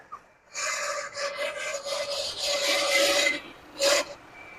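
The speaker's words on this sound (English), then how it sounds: "I think it's the smog pump." The smog pump on a 1979 Lincoln Continental engine, abandoned for 32 years, gives off a raspy, scraping whine in uneven surges, loud and close, with a sharp final burst.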